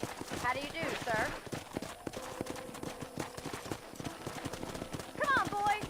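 Horse hooves from Red Dead Redemption clop in a continuous walking rhythm beneath ongoing conversation, a short whinny rising near the start and again near the end.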